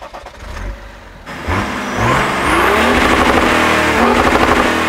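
A BMW 335i turbocharged engine revs up loudly, the pitch climbing and sweeping in rising waves, with a rough idle at the start and a brief lull before the revving builds.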